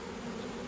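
A swarm of bees settling into a log hive makes a continuous close buzzing hum, a brief dense drone with no pauses.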